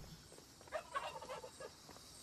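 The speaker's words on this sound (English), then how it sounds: "was that some chicken noises" Chicken noises in the Project Zomboid video game: a short, faint burst of clucking and gobbling lasting under a second, with quiet ambience before and after.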